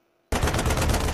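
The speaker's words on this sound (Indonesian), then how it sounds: "tembakan dari anak buahnya mengenai Yura" A loud burst of rapid automatic gunfire from a film action scene starts abruptly after a short silence and continues as a dense, fast, continuous volley.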